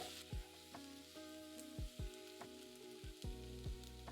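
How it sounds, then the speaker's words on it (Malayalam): Spice masala of turmeric, Kashmiri chili powder and salt sautéing in a pan for raw mango curry, a quiet steady sizzle broken by repeated clinks and scrapes of stirring, with no voices. "ഇത്രയും ഇട്ട് മസാലയുടെ പച്ചമണം മാറാൻ 1 മിനിറ്റ് വഴറ്റുക."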